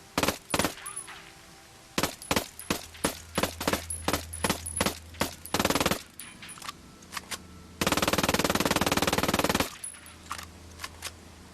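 A fast-firing, suppressed-sounding submachine gun in Ghost Recon Wildlands rattles off in short separate bursts, then one long sustained burst, loud and close with no talking.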